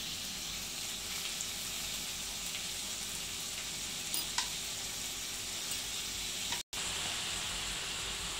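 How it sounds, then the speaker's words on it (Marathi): Freshly chopped spinach, a leafy green full of water, dropped into a hot pan for a potato and spinach stir-fry, giving a faint, steady sizzle and hiss that runs on without a break, with one brief dropout near the end. "ही पालक ही चिरलेली टाकते"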